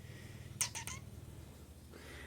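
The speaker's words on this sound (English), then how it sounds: "Here's my kitty." A pet house cat gives a brief, fairly faint meow of two or three quick pitched pulses. A steady low indoor hum runs underneath.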